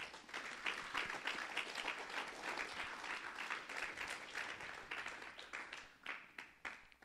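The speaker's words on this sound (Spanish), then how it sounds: "Denle un aplauso al Espíritu Santo." A church congregation at a Friday service claps together, a steady, moderately distant wash of applause that carries on for several seconds with little talk.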